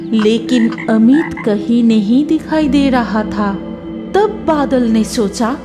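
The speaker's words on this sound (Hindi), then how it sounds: "दूर कहीं से एक बगुला और मेंढक की आवाज आ रही थी" Frogs croak steadily and loudly near a pond at dusk in a rural village setting, a dense rhythmic chorus running throughout under someone narrating a horror story.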